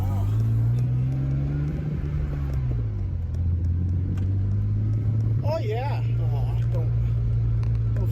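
A BMW E36 with a welded differential drives with a steady low engine drone that dips and shifts pitch, while a voice talks over it in places.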